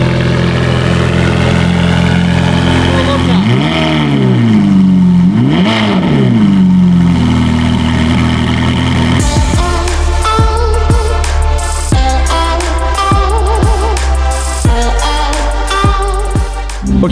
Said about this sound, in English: Okay, cold start, clear prop.